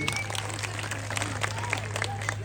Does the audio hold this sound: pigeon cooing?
no